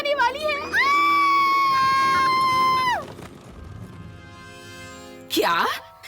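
Cartoon children in a Hindi-dubbed My Little Pony: Friendship is Magic episode scream in fear, with a crowd of high, sustained shrieks rising and falling. A second, shorter burst of screaming follows a quieter gap.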